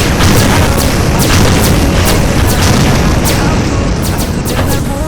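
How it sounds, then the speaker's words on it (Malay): Heavy explosions in a video game boom continuously, missile-like blasts layered into a loud, dense roar with repeated sharp bursts throughout. "Aku dengar bom macam peluru berpandu."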